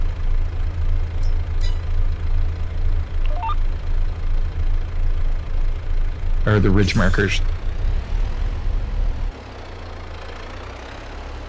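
Tractor engine in the video game Farming Simulator 22, a loud, steady low idle with a pulsing, knocking rhythm that drops to a quieter hum near the end, while a person talks briefly over it.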